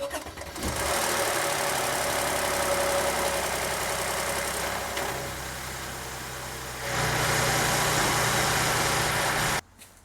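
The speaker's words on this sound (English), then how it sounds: "So I'm gonna start the engine." A Mercedes ML350 with the M276 engine cranks and starts after chain tensioner replacement, then settles into a steady, loud idle with a brief rise in pitch before cutting off abruptly near the end.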